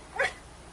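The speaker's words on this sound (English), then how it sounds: "there's my dog Daisy over here" A single short, sharp bark from a dog at an RV park beside a lake, a brief yip rising above quiet outdoor background.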